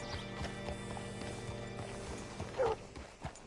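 Horse hooves clip-clopping at a steady walk in the open world of Red Dead Redemption 2, ending in a short, close whinny near the end over faint background ambience.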